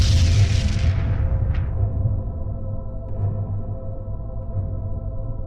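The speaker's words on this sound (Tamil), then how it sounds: "விண்மீன்கள் இப்படி வெடித்து சிதறும் போது சூப்பர்னோவா என்ற ஒளிப்பிழம்புகளை உருவாக்குகின்றன" A cinematic supernova star explosion effect: a loud, bright boom already in progress that fades into a long, deep rumbling drone, with no voices.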